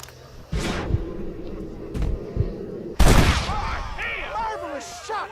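A gunshot in the Western video game Red Dead Redemption: a few sharp, loud cracks, the biggest a close blast near the middle, under game chatter and other effects.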